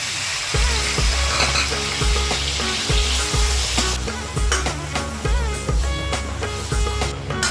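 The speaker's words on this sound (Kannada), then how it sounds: "ಹಸಿ ವಾಸನೆ ಹೋಗೋ ತನಕ ನಾನು ಇದನ್ನು ಫ್ರೈ ಮಾಡ್ಕೊಳ್ತಾ ಇದ್ದೀನಿ." Onion and turmeric paste frying for mutton curry gives a steady, close sizzle, broken by repeated scraping and stirring strokes from a spoon against the pan. Some faint clinks of metal come through, and no one speaks.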